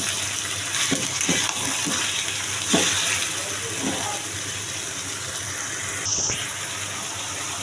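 Onion, cinnamon, cardamom and bay leaf fry in hot oil with a steady hissing sizzle, broken by a few stirring scrapes and clinks.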